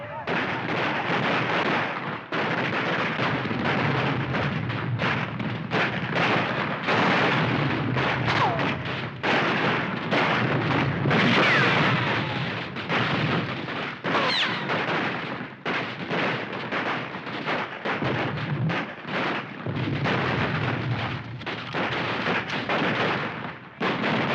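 Battlefield gunfire and heavy artillery fire boom and crackle almost without pause, dense and loud throughout, with overlapping blasts and volleys.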